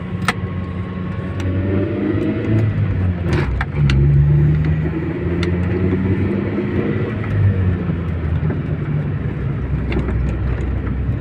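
Toyota Corolla EE-80 with a 4AG engine on a test drive, heard from inside as a steady mid-pitched engine hum with gear changes and a brief rise in revs, plus road rumble throughout.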